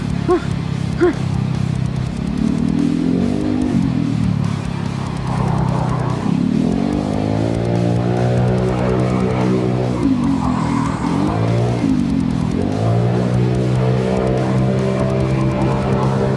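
Continuous roar of trucks and cars passing on a road, with engine tones rising and falling as vehicles go by, loud and close, with no talk over it.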